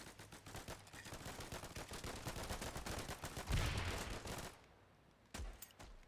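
Dense rapid gunfire and volleys from a Foxhole battle, loud and continuous for several seconds, with a heavier blast near the middle before dropping off, then a few more close shots at the end.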